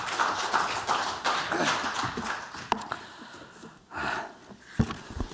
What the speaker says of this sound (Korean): 이성재 교수님을 큰 박수로 맞이하겠습니다